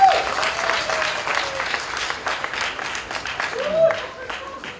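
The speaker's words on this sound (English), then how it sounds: "Imran Lasker, round of applause for Imran" Wedding guests give Imran a round of applause, a dense burst of clapping that is loudest at the start and then holds steady. Voices can be heard through it.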